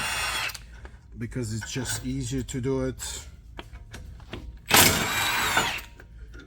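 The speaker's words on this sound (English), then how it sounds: "we're going to use a power tool to get these out" A power tool, likely an impact driver, zips out front brake caliper bolts on a Mercedes GLS 63 AMG during a brake job. One sharp whirring burst at the start and a longer loud one near the end, with someone talking in between.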